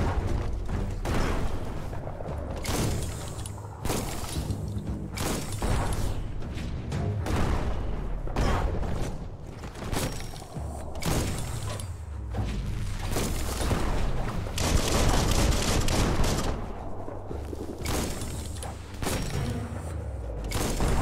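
Bombs from a bomb lobber enemy explode in Biomutant, a dense run of booming blasts and thuds that keeps going throughout, loud and close amid game noise.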